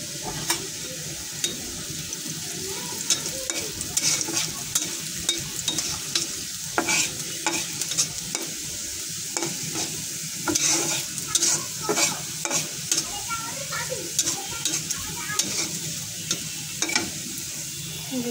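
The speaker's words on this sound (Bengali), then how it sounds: "হয়ে আসছে, এটা এখন বাজার দিব। ডাল বাজার দিতেছি।" Dal being tempered in a hot pan, a steady bright sizzle of frying with repeated stirring scrapes and clicks, close and continuous with no talk.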